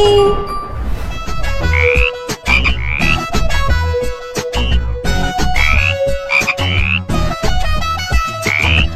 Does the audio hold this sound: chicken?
no